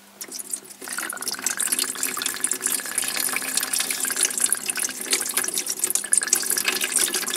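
Steady splashing trickle of water draining from a diesel fuel filter on a Mercedes ML 320, continuous and fairly close, with no talking.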